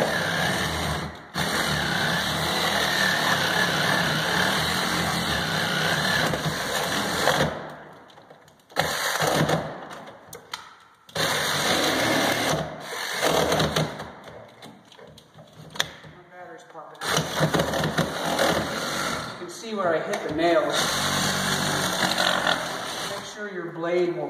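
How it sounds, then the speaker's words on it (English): Sawzall reciprocating saw cutting down through the nails of an interior door frame, harsh buzzing cutting bursts broken by short pauses, loud and close, with talk heard between cuts. "I take my Sawzall and I'll work with gravity, and then I'll just go down to cut all the nails"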